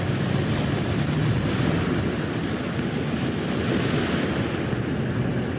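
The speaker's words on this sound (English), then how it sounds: "The waves were getting really strong." Strong ocean surf churns continuously during a whale rescue at sea, a loud, steady roar of breaking waves mixed with wind buffeting the microphone, with no talking.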